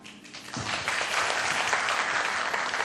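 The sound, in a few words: audience applause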